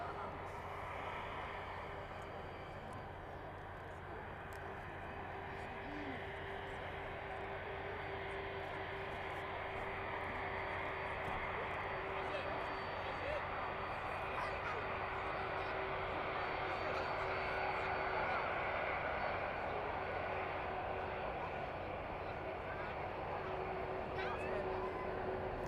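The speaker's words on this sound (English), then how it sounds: "There it is then, landing in with us and safely vacating onto Mike" Boeing 767 cargo plane landing at East Midlands Airport in the evening, a sustained jet engine roar with a steady tonal hum, gradually swelling louder toward the middle and late part.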